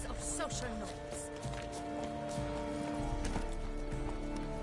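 Hooves clip-clop steadily as a horse gallops in the game Witcher 3, a brisk rhythmic beat running under character dialogue, with a brief whinny.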